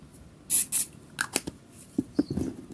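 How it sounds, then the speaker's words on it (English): Two quick, close hisses of a small hand sanitizer spray bottle, followed by light clicks and handling noises. "My trusty hand sanitizer spray."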